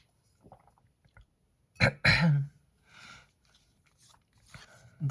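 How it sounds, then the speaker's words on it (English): A few harsh, abrupt coughs in quick succession, close and fairly loud, with quieter rustling and small noises between them. "I'm having some coughing jags here"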